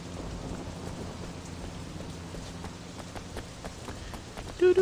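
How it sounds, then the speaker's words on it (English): Rain falls in the video game Sleeping Dogs as a soft, steady hiss of drops, with scattered sharper patters and a faint low rumble beneath, and a short electronic blip at the very end. "Rain."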